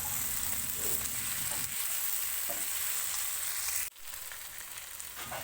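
Chicken sizzles steadily in a pan for mustard chicken as chili powder is stirred in, with a close, constant frying hiss that drops suddenly near the end before continuing more quietly.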